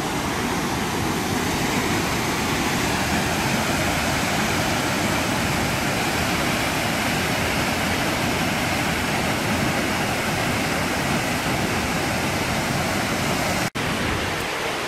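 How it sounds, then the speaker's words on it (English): A powerful waterfall on Vancouver Island roars as a loud, steady broadband rush of crashing water, close and unbroken, with a brief dip near the end. "Now these falls are not disappointing."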